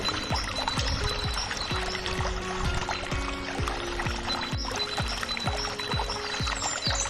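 Water pours and splashes steadily into a body of water, with repeated gurgling bubbles and a continuous watery wash.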